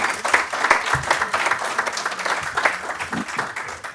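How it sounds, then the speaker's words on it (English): An audience applauds a panel at a hearing on international broadcasting experiences, producing dense, steady clapping close to the microphone for several seconds, with a few voices mixed in underneath. "we'll give a big applause to this panel."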